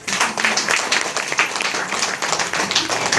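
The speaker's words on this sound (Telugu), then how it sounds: "గట్టి క్లాప్స్ కొట్టండి." Audience clapping together at a Ratha Saptami celebration in Buchireddypalem, a dense, steady wash of many hands that stays loud and even throughout, with no voices over it.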